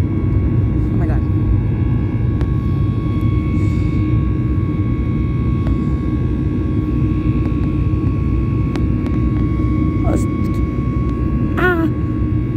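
Loud steady roar of an airliner's jet engines heard from inside the cabin during flight, a constant broadband rumble with a few faint voices and small clicks on top.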